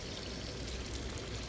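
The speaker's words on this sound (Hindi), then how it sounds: "थोड़ा सा पानी डालेंगे हम" A small splash of water poured into a pan of dhaba-style frying beef liver, giving a soft continuous hiss and trickle, fairly quiet and steady with no talking.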